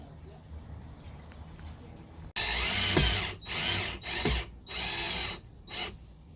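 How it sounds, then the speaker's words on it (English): Power drill driving screws into a wooden speaker box inside a Mercedes Sprinter 4x4 van build, several loud close bursts of whirring after a quiet start, each separated by short pauses. "Now all I need is put 2 screws down here so I don't see these screws from the outside."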